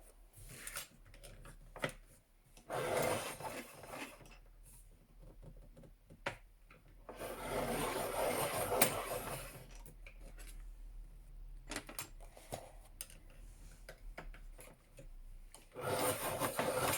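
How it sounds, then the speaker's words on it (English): Coloured pencils scraped in a handheld sharpener during an adult colouring session, several separate bursts of dry rasping grinding with quiet pauses between them, fairly close and no talking. "Let's sharpen these up."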